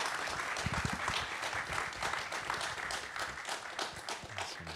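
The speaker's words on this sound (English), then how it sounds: "can we give them a big round of applause?" Crowd applause for a panel at the KiCon North America electronics conference, a continuous mass of clapping with a few heavier close claps, held at an even level throughout.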